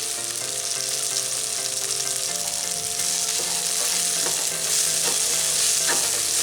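Boiled, salted green peas sautéed with ginger and garlic in a pan give a steady, close sizzle with scraping stirring strokes, continuous under soft background music.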